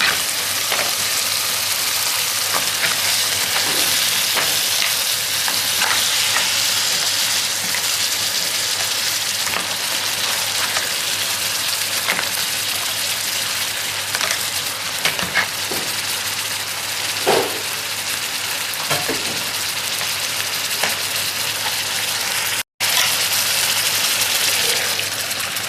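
Crab cooked in Indian masala sizzles loudly in a pan, a constant dense frying hiss with occasional scraping stirs, close and unbroken, no talk.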